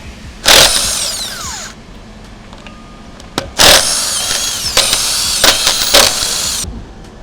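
A 1/2 inch impact gun zips lug nuts off the wheels of a Chevrolet Suburban: two loud, close rattling bursts separated by a quieter gap, then several shorter hammering bursts, with no talk.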